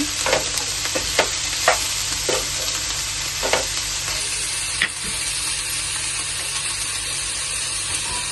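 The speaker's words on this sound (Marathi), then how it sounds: "अद्रक लसूण टाकून घेऊया. चांगले जरा थोडंसं शिजून घेऊया." Ginger and garlic fry in a pan for a gravy, a continuous close sizzle punctuated by several sharp scraping stirs of a spatula in the first half, then settling into steady frying.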